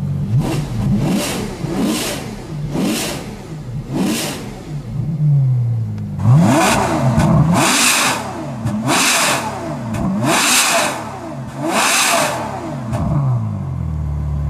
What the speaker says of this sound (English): so let's rev this in off and then compare it with on.